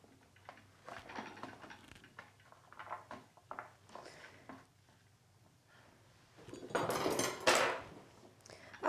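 A knife chops through the ends of large peeled carrots on a cutting board, scattered quiet knocks and taps followed by a louder burst of rapid cuts near the end, with a steady low hum underneath.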